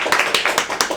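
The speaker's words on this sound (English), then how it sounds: "So, big round of applause." A small audience at a public speaking event claps, sharp irregular hand claps coming quickly and fairly loud, heard alone with no talking.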